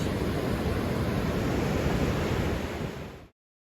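Ocean surf washes onto a beach in Olympic National Park, a steady broad roar of breaking waves mixed with wind, close and loud, then cutting off abruptly.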